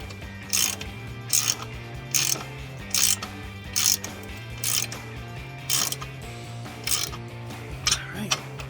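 Ratchet wrench tightening bolts on side step bars being installed on a RAM 1500 pickup, sounding as repeated short bursts of clicking at a steady pace, close and clear over a low background hum.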